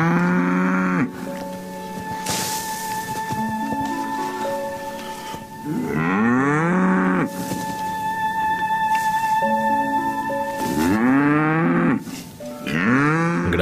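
Cattle on a mountain pasture give loud, close, drawn-out moos, several long bellowing calls one after another against a steady background.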